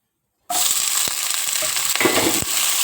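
Hot oil sizzling loudly in a pan for plantain curry, a dense steady frying hiss starting abruptly after brief silence, with a few light stirring clicks, close.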